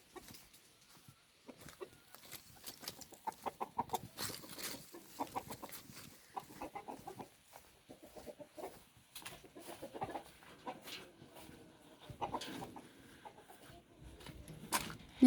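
Chickens clucking in a village yard, with repeated uneven bursts of clucks and calls close by, some louder squawks mixed in and no talking.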